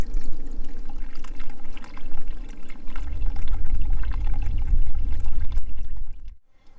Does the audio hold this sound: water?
yes